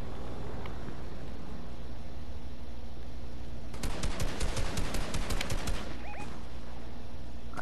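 Video game gunfire from The Division: a rapid automatic burst of sharp shots lasting a few seconds over a steady in-game background hum, with no talk.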